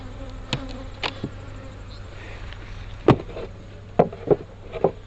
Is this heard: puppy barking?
no